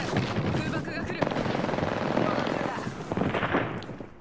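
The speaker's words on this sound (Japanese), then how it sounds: "空爆が来る" An incoming airstrike in the battle royale shooter Apex Legends hits as a dense barrage of rapid gunfire and booming blasts, with people talking under the noise.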